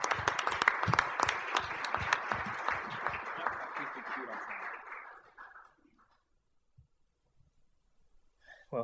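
Audience applause welcoming a speaker to the stage at a talk, dense clapping for about five seconds that fades out, followed by near silence and a brief sound at the end.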